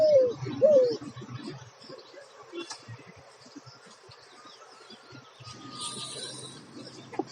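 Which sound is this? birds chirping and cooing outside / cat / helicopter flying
birds chirping and cooing outside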